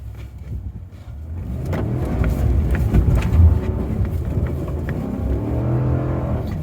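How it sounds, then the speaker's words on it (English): A 2022 Ram pickup truck spins through a donut, its engine droning loudly and steadily as traction control cuts power, with rumbling revs rising and falling throughout. "It's doing a donut, but it's cutting power. But it's doing a pretty successful donut."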